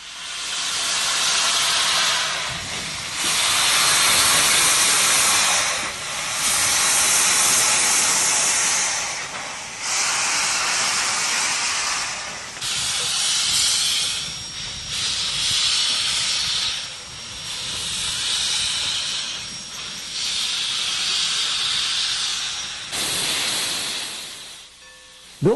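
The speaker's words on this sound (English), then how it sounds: "Milwaukee Road Class S3 484 number 261 is making up its train in preparation for a two-day ferry run to Galesburg" Milwaukee Road Class S3 4-8-4 No. 261, a 1944 Alco coal-burning steam locomotive with 74-inch drivers, hisses loudly and steadily while making up its train, in long bursts of venting steam broken by brief pauses.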